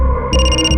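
A phone ringtone sounds loud and close, a steady electronic tone with bright high harmonics that shifts pitch partway through, in a crime drama scene.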